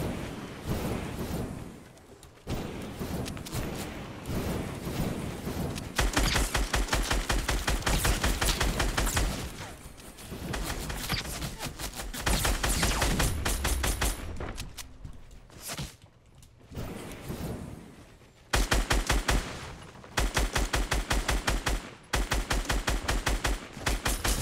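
Sustained automatic gunfire in Fortnite during jetpack flight, with long loud bursts of rapid shots separated by brief pauses and a low rumbling thrust beneath, continuing across the whole stretch without talk.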